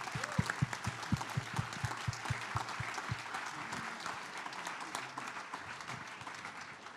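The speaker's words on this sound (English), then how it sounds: "let's give the two award recipients another round of applause" A dinner audience at an award ceremony applauds the recipients, a sustained wash of many hands clapping that fades gradually toward the end, with no speech over it.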